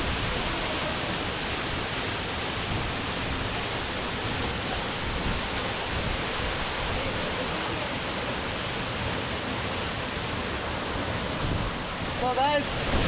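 Vibhuti waterfall near Yana pours and splashes in a loud, dense, continuous roar of falling water, steady for the whole stretch with a slight rustle toward the end, and no clear talk over it.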